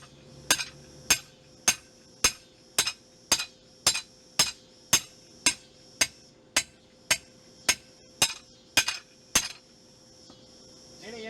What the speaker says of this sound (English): you're going to want to hammer that every so often.